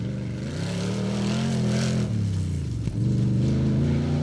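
Rally car engine in the Britpart Pioneer All Wheel Drive Safari Championship 2021, a steady droning mid-range note that shifts pitch as the driver works through gears, with a brief clunk partway through, close and continuous.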